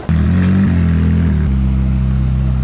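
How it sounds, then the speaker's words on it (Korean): A Ferrari 458 sports car engine revs close and loud, its note rising and then settling into a strong, steady throb, with nothing else audible. "페라리 458입니다."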